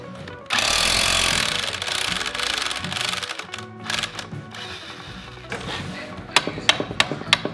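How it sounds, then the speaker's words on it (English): A chisel driven by an air hammer cuts out a bushing sleeve from a Lexus IS300 rear tow arm, a loud rapid rattling hammer burst that runs for seconds and then breaks into shorter stuttering hits and sharp knocks. "we'll cut a relief cut in the sleeve and chisel out the sleeve"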